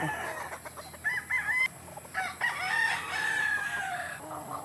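A rooster crows a few times amid scattered clucking from chickens, fairly close, with a faint hum of outdoor background on a farm.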